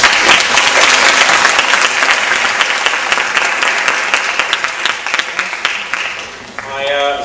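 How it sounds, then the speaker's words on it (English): Loud, close applause from a debate audience for all the speakers, a dense rapid clatter of many hands that slowly thins out before a voice starts speaking near the end. "Can I have a round of applause for everyone?"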